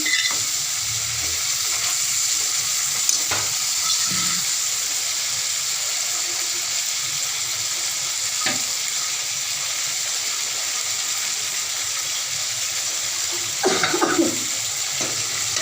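Chhilba fish frying in oil gives a constant hissing sizzle, with a few sharp clicks and a brief burst of louder bubbling near the end.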